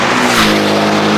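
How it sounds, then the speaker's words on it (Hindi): Supercars race around a track with a loud, steady engine roar close by that holds strong throughout, then cuts off abruptly at the end. "गाड़ियों की जो आवाज़ आ रही है ना इतनी खतरनाक है"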